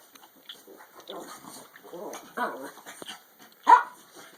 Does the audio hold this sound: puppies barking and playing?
yes